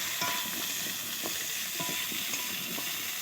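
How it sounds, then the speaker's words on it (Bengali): Potatoes pre-seasoned with salt and turmeric sizzle in hot oil in a pan after the onions have browned. A steady, close frying hiss is broken by a few soft stirring knocks. "আলুগুলো দিয়ে একটু ভাজা ভাজা করব"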